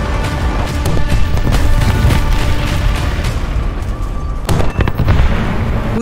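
A 12,000-pound HC Mark I bomb detonating in War Thunder: continuous loud rumbling blast with repeated booming bursts and crackling debris over six seconds, briefly easing near the end before surging again.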